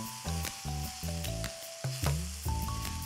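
Chopped vegetables sizzling in a hot pan for a meatless stir-fry, a steady close crackle broken by several sharp stirring clatters.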